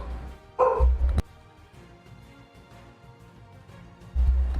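A dog barks loudly in two short bursts, nearby, with a quiet stretch in between.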